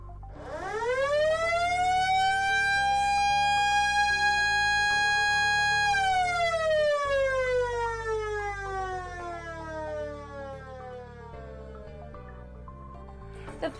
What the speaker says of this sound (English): The Federal Signal Model L electromechanical siren